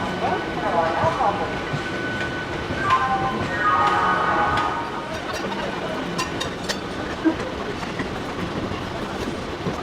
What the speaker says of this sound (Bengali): দেখো এই হাওড়া জাংশন ছাড়লো আমাদের ট্রেন